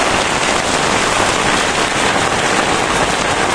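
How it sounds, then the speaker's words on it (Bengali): Heavy rain pours down in a dense, loud, unbroken hiss with no pauses and no voices. "আর যে বৃষ্টি হইতেছে কয়দিন ধরে, মনে করেন যে প্রচুর বৃষ্টি"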